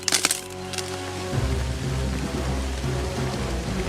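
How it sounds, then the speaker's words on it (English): Firewood is chopped outdoors in the rain: a few sharp wooden cracks and splintering hits come right at the start, then steady rain hiss and patter take over. "I'm gonna go ahead and chop this up"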